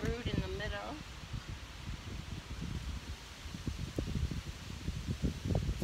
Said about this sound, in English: Very windy today, so I'm hoping the audio is okay on this.